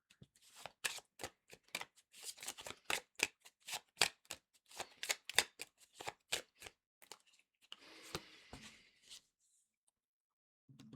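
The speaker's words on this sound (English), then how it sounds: "shuffle the ones that have fallen out." A deck of cards is shuffled close up in a run of quick, crisp riffles and taps, a couple of dozen sharp clicks and flutters, quiet and alone, ending in soft rustling before silence.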